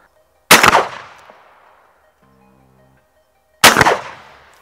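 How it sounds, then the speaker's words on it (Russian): Two loud shotgun blasts from an ARMSAN Phenoma firing Wolf Power rifle slugs at a 35-metre target, about three seconds apart, each with a ringing decay and near silence between. "Стреляем по правой мишени пулями Wolf Power Rifle Slug. Выстрелим два раза на дистанции 35 метров."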